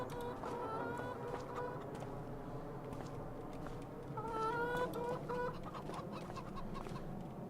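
Chickens cluck steadily on a farm in the Farming Simulator 25 video game, a dense, continuous flock chatter with a few louder calls standing out near the middle.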